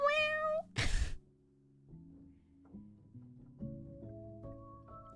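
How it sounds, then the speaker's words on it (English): A cat inside a clothes dryer gives one clear, close meow, followed by a short rustling thump and then soft, fairly quiet music. "There's just a cat in it."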